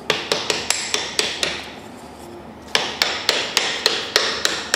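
Stars are tapped into a Maltese firework shell casing, a sharp rhythmic series of close hammer taps with a short pause midway.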